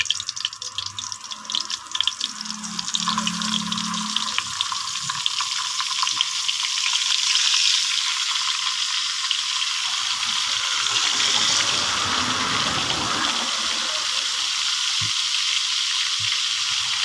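Chicken feet and chicken heads frying in hot cooking oil, a loud, steady, close sizzle with crackling spatter that swells partway through and keeps going, with no talk.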